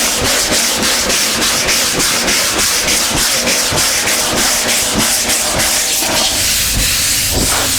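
A hard sanding block worked over Bondo body filler on a metal car panel, making a harsh, rapid back-and-forth scraping rasp in quick repeated strokes, loud and close with no voices.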